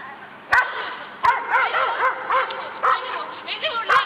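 Several dogs in an Istanbul park bark, yip and whimper in bursts, sharp yelps punctuating the excited calls, fairly close, with a voice talking over them.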